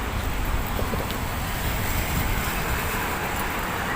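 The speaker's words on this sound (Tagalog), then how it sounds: "Mahangin siya." Strong wind on the Manila Bay baywalk buffets the microphone in a constant, rough rush of noise with no other clear sounds.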